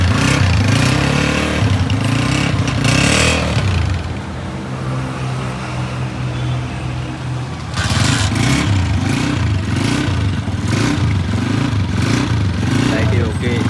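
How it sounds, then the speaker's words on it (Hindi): A brand-new Honda 125 motorcycle engine running right after its first kick start, a loud close, steady pulsing idle that dips briefly and then returns, with people talking over it. "और ये पहली किक लगी मोटरसाइकिल।"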